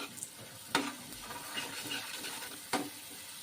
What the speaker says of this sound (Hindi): अब टमाटर जो हमने पीस के रखे हैं ना वो डाल देते हैं।